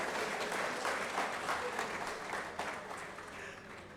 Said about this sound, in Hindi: सबसे निवेदन है कि हमारे अतिथियों के लिए एक बार जोरदार ताली बजाकर उनका स्वागत होना चाहिए।